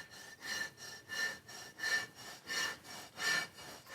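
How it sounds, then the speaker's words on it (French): A fleshing tool scraping an animal skin prepared for parchment, six slow rhythmic rasping strokes at an even pace, close and faint, with no voices. "Il faut prendre un outil et écharner"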